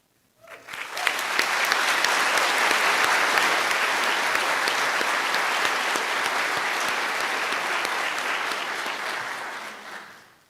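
A university bioengineering graduation audience breaks into applause honoring the graduates' families, a dense wash of clapping that swells quickly, holds steady for several seconds and then tapers off, with no voices over it.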